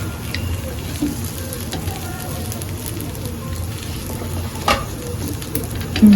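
A masala dosa fries on a hot pan with a steady close sizzle and crackle, a few scraping and clinking touches breaking through, and a voice heard briefly.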